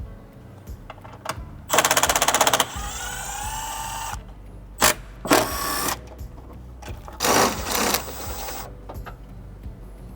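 A power tool backs out 8mm bolts holding the coolant expansion tank on a 2021+ Ford Bronco: several short whirring ratchet bursts between pauses over a steady background hum, recorded up close.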